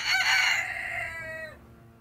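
A rooster at the Terra Nova Rural Park community garden in Richmond gives one loud, close cock-a-doodle-doo that trails off into quiet.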